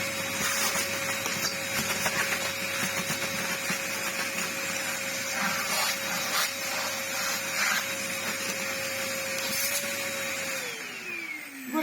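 A mains-powered household vacuum cleaner runs steadily and loudly throughout, with a constant motor whine that drops in pitch near the end as it begins to power down.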